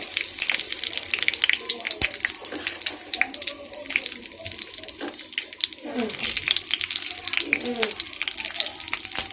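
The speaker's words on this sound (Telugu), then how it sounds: "ఆయిల్ కొంచెం హీట్ ఎక్కిన తర్వాత రెండు రెబ్బల కరివేపాకు వేసి దానిలో పువ్వు బగారా మసాలాలు అన్నీ వేసుకోవాలండి" Curry leaves and bagara spices dropped into hot oil for Telangana-style pindi charu, sizzling and crackling steadily up close with bursts of spattering throughout, some faint kitchen noise underneath.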